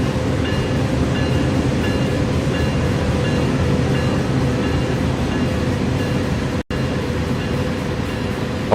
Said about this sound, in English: I wish we could get this thing going faster, but then I'd be breaking the train speed limit.